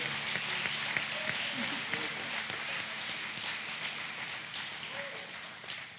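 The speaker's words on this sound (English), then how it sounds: "Give the Lord a hand clap of praise because he's so good" Gospel concert audience giving a hand clap of praise in a church-style hall, a soft, distant, even patter of applause lasting several seconds with faint voices underneath.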